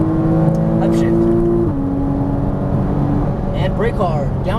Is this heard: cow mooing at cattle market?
no